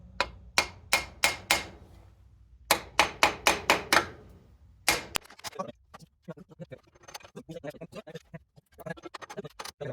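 Claw hammer striking a TH400 automatic transmission front pump: two sharp bursts of five or six ringing metallic taps in quick succession, followed by scattered softer clanks and scraping handling noises.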